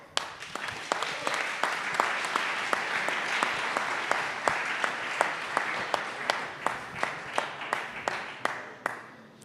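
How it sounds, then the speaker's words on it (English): A startup pitching competition audience applauds with sparse, distinct claps that ring out loudly over a steady wash of clapping, keeping a regular beat throughout and then tapering off at the end. "Big applause."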